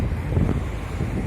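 Strong gusting wind buffets the microphone outdoors beside a river, a loud, steady low roar with no speech over it.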